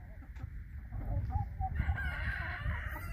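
A rooster crows in the distance on a farm, faint and drawn out, over rustling outdoor noise and low rumble.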